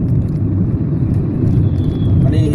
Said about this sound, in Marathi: मुंबई बेंगलोर हायवेला ट्रॅफिक खूप जास्त आहे